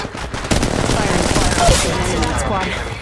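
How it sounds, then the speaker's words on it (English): Gunfire in the mobile battle royale game Apex Legends Mobile, a steady rattling burst of automatic fire running nearly the whole time at fairly loud level, with game voice callouts mixed underneath. "Getting shot at."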